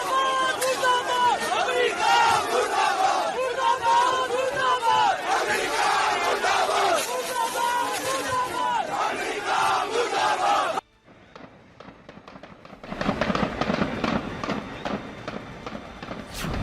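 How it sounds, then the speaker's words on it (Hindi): A large protest crowd in Lahore chants slogans, many voices shouting together loud and close. The chanting runs for about eleven seconds, breaks off briefly, then surges back in. "लाहौर में भीड़ ने झंडे लहराए, नारे लगाए।"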